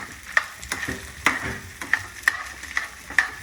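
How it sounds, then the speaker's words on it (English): Canned chickpeas tipped into a pan of sizzling leeks, giving a steady frying hiss broken by a run of sharp clinks and scrapes from stirring, close by and without talk. "I'm going to put that can of chickpeas in"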